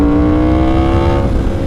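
A Yamaha R1 crossplane superbike fitted with an SC Project CR-T aftermarket exhaust revs loudly with a steady harmonic drone, which breaks into a rougher, crackling burst near the end, close and alone.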